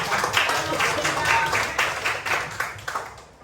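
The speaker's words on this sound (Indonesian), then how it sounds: "Berikan tepuk dulu ya." Students in an Indonesian classroom lesson clap together, a brisk, fairly close burst of hand claps with a steady beat that gradually thins and fades toward the end.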